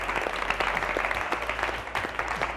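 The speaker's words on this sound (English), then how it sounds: "Give yourselves a round of applause as well" Audience at a youth event clapping for the youth and young adult leaders, a dense continuous round of applause at moderate distance with no voices.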